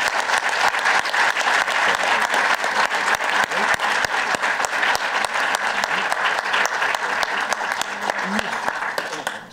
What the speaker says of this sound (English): a round of applause to Gillian Scales, Gabby Patterson, and everybody else who's made this possible